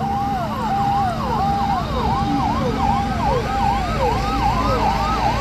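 A fire brigade vehicle's siren wails through a district parade in Buldhana, its rapid, repeating up-and-down sweeps loud and close over a low engine rumble, with no talk.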